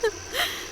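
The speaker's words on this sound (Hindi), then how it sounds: "किसी लड़की की रोने की आवाज आ रही है।" A girl cries in a Hindi-dubbed Telugu horror film, a brief faint whimpering sob heard from a distance under quiet ambience.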